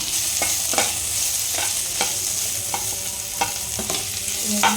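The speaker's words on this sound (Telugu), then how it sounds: "వేసుకొని ఫ్రై చేసుకోవాలి" Potatoes fry in a pan for masala vermicelli (semiya), with a continuous loud sizzle. A spoon scrapes the pan in regular strokes about every half second, and there is no speech.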